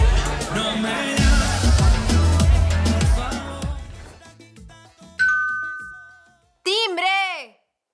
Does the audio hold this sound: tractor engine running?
no